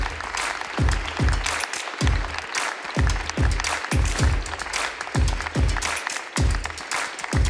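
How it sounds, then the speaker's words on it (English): A conference audience at an insurance forum claps in rhythmic, evenly spaced bursts, like game-show applause, loud and sustained for several seconds with no one speaking. "you can all applaud like in a game show"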